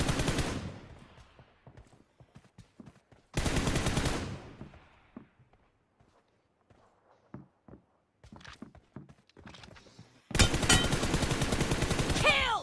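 Bursts of automatic gunfire in a one-on-one video game team deathmatch, loud rapid volleys alternating with quieter single shots and footsteps, with near silence between bursts.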